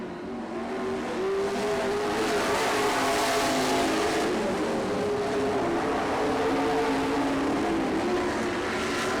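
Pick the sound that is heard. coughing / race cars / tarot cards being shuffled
race cars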